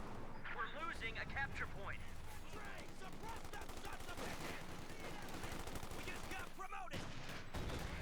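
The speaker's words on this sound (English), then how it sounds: "fires a heavy machine gun" Heavy machine gun fire in a war video game, rapid bursts of rattling shots mixed with distant booms and battlefield clatter, running steadily throughout beneath a talking voice.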